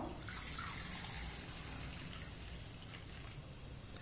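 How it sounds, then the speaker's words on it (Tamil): A cup of the water used to soak rice is poured into a clay pot of milk for traditional sweet pongal. It makes a soft, faint trickling splash that lasts a few seconds. "ஒரு கப்பு தண்ணி அள்ளி சேர்க்க போகிறோம்."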